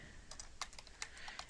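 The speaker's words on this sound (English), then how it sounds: "typing in the keyword search box" Quick, quiet keystrokes on a computer keyboard as a search query is entered, about ten light, uneven clicks over a second and a half, with no talking.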